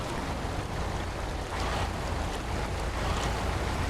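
An amphibious 12x12 AZOV 7330 truck in SnowRunner churns through water, giving a steady, dense wash of splashing and rushing water with an engine rumble underneath and no pauses.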